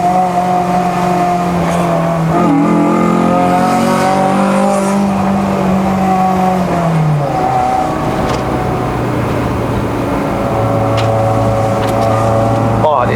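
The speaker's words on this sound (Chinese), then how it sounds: "很吵哦，如果是那个油门一放啊踩啊放啊踩" A Honda Civic EG9 engine revs up and falls back as the throttle is pressed and released, loud rising and dropping engine tones with a long sweeping climb and fall. The car's sound fills the clip.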